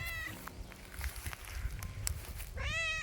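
A cat meows once, clearly and nearby, then after some soft rustling and shuffling it meows again, longer and rising.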